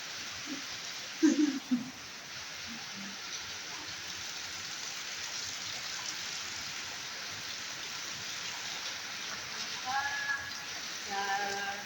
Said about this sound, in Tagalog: Everyday raining.